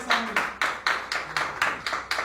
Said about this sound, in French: on applaudit pour Nova.